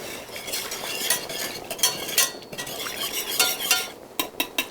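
A utensil stirs gluten-free pasta sauce in a pot, giving steady scraping with intermittent metallic clinks against the sides, the loudest knocks clustered toward the end, with no talking.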